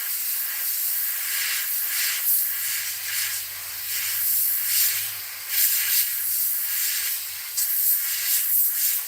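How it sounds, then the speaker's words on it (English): Spray paint hissing steadily from a can as it is sprayed across a template onto a fishing lure, a close, bright continuous hiss with slight pulsing bursts throughout. "I'm going to just kind of just spray right along here"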